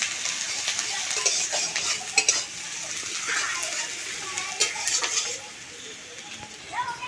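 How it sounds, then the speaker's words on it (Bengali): Chopped garlic and onion stirred and lightly fried in a pan for a potato and mushroom curry, sizzling under scraping spoon strokes and clinks, with a voice talking over it. "রসুনটা পেঁয়াজের সঙ্গে নেড়ে চেড়ে হালকা একটু ভেজে নেব"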